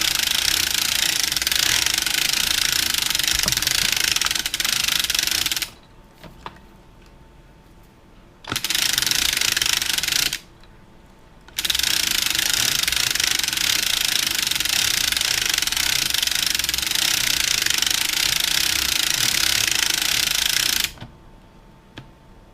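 A circular sock knitting machine being hand-cranked while knitting a no-show heel tab sock, giving a loud, dense mechanical clatter in three long runs separated by brief pauses, with no talking.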